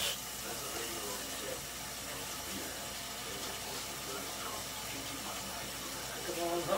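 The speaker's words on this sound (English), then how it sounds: "so I'm going to go wash my hands." Hot water runs steadily from a kitchen tap into a sink as hands are washed, a continuous close hiss and splash lasting throughout with a brief louder swell at the end.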